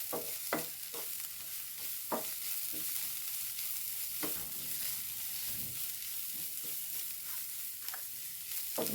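Onion, tomato and pepper masala fries steadily in a pan, a continuous sizzle broken by several sharp scrapes of a spoon stirring through it, close and fairly loud with no voices.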